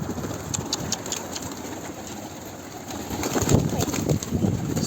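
Macar (Hungarian) pigeons coo in a loft against a dense, noisy background with a low engine-like rumble, the soft calls repeating irregularly and growing a little busier toward the end.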